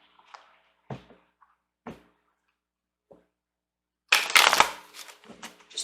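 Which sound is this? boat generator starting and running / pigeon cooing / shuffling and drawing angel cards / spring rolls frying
shuffling and drawing angel cards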